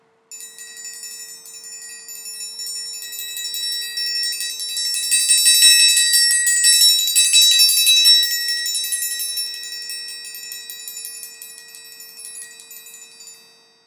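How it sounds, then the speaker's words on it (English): Sustained roll on a 6-inch Abel orchestral triangle, played in the closed corner: a shimmering, bright metallic ring that swells to a louder middle and then fades, heard alone without talk. "the easiest way for me to roll and keep it consistent is to pick the corner opposite of the open end and roll in that corner."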